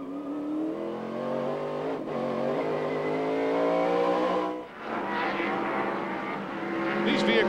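Racing trucks roar around a road course, engines droning at sustained high revs, with a commentator talking over the steady motor noise.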